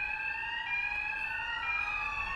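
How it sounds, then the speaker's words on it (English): A fire alarm sounds steadily throughout, its continuous electronic tone holding several stacked pitches at a constant moderate level with no voices. "When the alarm sounds,"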